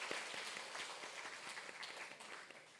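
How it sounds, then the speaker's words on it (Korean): A church congregation at a Wednesday prayer service applauds to welcome a visiting missionary: quiet, steady clapping from many hands in a large room, sustained throughout. "우리 큰 박수로 환영하겠습니다"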